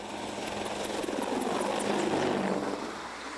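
An Apache attack helicopter flying, its steady heavy rotor thrum and engine roar rising slightly in loudness and then easing, with no voices.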